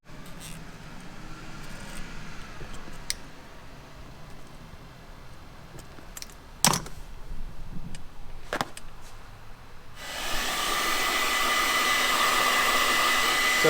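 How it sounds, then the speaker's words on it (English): A heat gun switches on near the end and blows a loud, steady rushing hiss while shrinking heat-shrink tubing over positive and earth wires during a 12V touring wiring install, after a quieter stretch with a few scattered knocks. "now I'm just heat shrinking down, so I've got a full loom. Use the heat gun"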